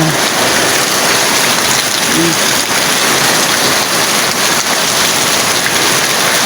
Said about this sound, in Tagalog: mabigat yung bagsak ng ano, ng ulan sa ano, sa yero.